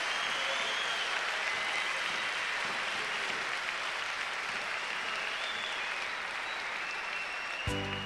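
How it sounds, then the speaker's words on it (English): Long, steady applause from a 1995 gospel concert crowd for the performers, a thick even roar of clapping sustained for about eight seconds, with a brief sharp knock near the end. "Clap for him one more time, come on."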